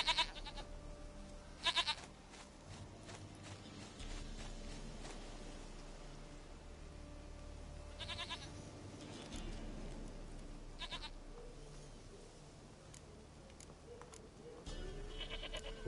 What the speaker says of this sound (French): Une chèvre à moi, gentille,